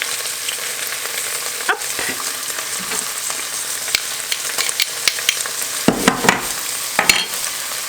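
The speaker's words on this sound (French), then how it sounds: "Alors une fois que la viande est bien dorée, on ajoute l'ail et l'oignon." Garlic and onion hit browned beef in a hot pot for a Mexican-style braised beef, giving a loud continuous sizzle with crackles and scraping stirs growing busier toward the end, and one short spoken interjection.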